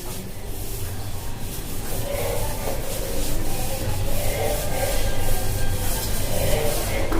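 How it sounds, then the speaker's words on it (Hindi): Steady, loud scrubbing as a classroom board is rubbed clean, a continuous dry friction noise with faint rhythmic strokes that grows slightly stronger over several seconds. "चलिए रब कर दें।"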